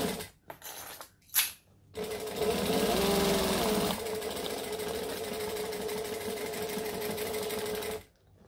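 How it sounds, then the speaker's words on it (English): A sewing machine stitching a bowler bag, starting with a few short bursts before running steadily as a loud, close, fast mechanical whir with rhythmic needle clatter, then stopping abruptly. "You want to stitch either one stitch on or one stitch off from your stabilizer."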